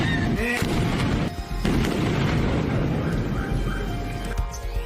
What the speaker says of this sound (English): most of the effects they used were practical, including this big explosion